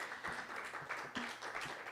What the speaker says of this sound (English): thank you for that tepid round of applause